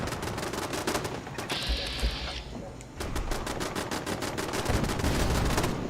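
Gunfire in the Fallout video game: rapid, dense automatic shooting that rolls on almost without a break, loud and close throughout, with a brief duller stretch in the middle before the bursts pick up again.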